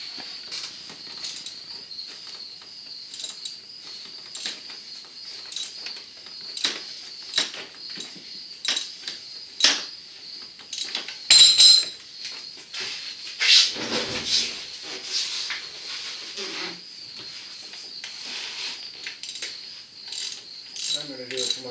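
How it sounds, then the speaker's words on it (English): A 15mm socket on a ratchet wrench works at the belt tensioner bolt of a Chevy Colorado, giving repeated close, sharp metallic clicks and ratcheting bursts in short irregular runs, with no talking. "I've got a 15mm socket, and I'm going to try and wrench this loose."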